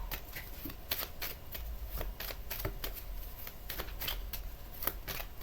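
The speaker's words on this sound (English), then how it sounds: "Let me shuffle this baby up." A tarot card deck being shuffled in hand, producing a run of crisp riffling bursts and soft flicks at close range, steady and uneven in rhythm, with no voices.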